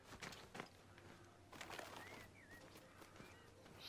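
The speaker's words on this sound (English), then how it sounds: "Snitch birds again." Pigeons or doves coo a few times in a quiet outdoor scene in the video game Sniper Elite Resistance, faint soft calls over low ambient background.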